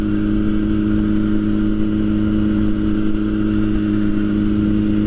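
A 1000cc liter-class sportbike engine holds a loud, steady high-rev drone during a ride, with strong sustained harmonics and no talking.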